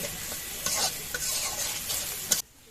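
Onions frying in a pan for beresta, with a steady close sizzle and several scraping stirs of a spatula before the sound cuts off abruptly.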